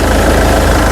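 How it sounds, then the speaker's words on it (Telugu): A 2024 Mahindra Scorpio S11 engine runs close and loud at a steady idle, its low throbbing rumble holding constant for the whole second with no voices. "ఇంజిన్ యొక్క నాయిస్ పర్ఫెక్ట్గా అయితే ఉంది"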